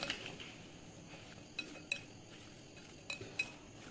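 Salted mango pickle mixture being stirred with a spoon, giving light scraping and a few sharp clinks against the dish, close and fairly quiet with no talking.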